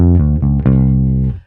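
Electric bass guitar plays a blues fill: two G ground notes followed by a quick run of sextuplets, six notes to a beat, ending on a sustained note that fades out, loud and close.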